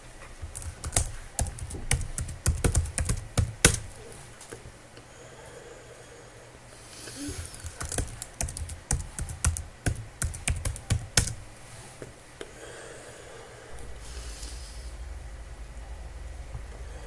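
Rapid bursts of keystrokes on a computer keyboard as a git clone command is typed, clicking clearly in several runs separated by short pauses, with no speech.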